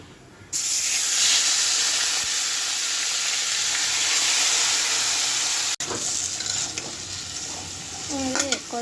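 Meat hits hot oil in a wok already seasoned with bay leaf and cumin, setting off a loud, close, continuous sizzle and hiss that cuts out briefly near the six-second mark before resuming, with a voice speaking near the end.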